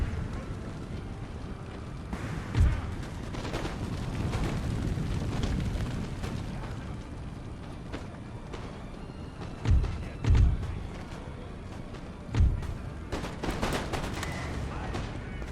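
Gunfire and artillery in the strategy game Empire: Total War, with scattered booming shots at irregular intervals over a constant rumbling battle ambience.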